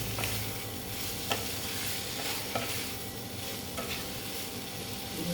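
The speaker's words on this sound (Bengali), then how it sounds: "এবার দিয়ে দিচ্ছি পনিরগুলো দিয়ে আবার একটু কষিয়ে নেব" Paneer is stirred and fried in a pan with masala, giving a continuous soft sizzle with occasional spatula knocks against the pan, near and fairly quiet, with no speech.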